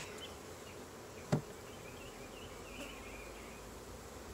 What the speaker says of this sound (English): Ooh, lots of bees.